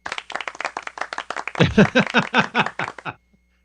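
A few people clap in quick succession, sharp individual claps up close that build briefly with a voice-like murmur mixed in, then stop abruptly into silence.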